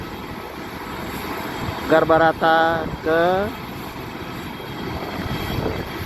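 A Garuda Indonesia Airbus wide-body airliner parked at the gate gives off a steady, droning engine hum throughout, while someone speaks briefly over it.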